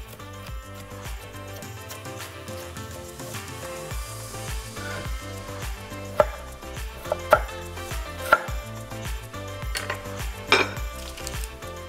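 Carrot and celery being chopped into small cubes on a cutting board, steady rapid knife strikes close by with occasional sharper thuds, no talking.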